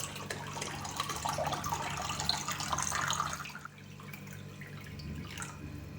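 Warm water pours steadily into a jar of bell peppers for a few seconds, then the flow thins to a quieter trickle.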